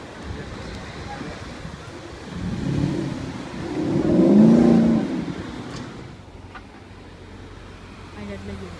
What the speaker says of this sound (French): c'est qu'un Cayenne, mais bon, j'aime bien le bruit.